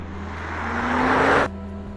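BMW iX3 electric car driving gives a rising synthetic whir that swells steadily over about a second and a half, then cuts off sharply to a lower hum, with no talking.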